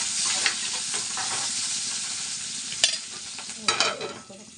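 Onions frying in a pan while being stirred for a simple cucumber curry, a steady close sizzle with scraping stir strokes and a couple of sharper clatters, no talking.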